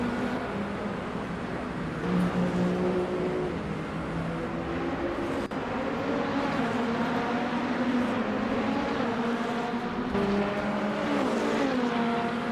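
Racing-car engines in the Le Mans Ultimate sim as a field including Peugeot prototypes battles on track, a steady layered drone of several engines with shifting pitches and no talk over it.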